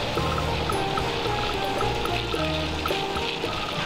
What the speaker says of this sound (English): This is followed by an automated washing process using brushes and rollers to remove any remaining dirt or dust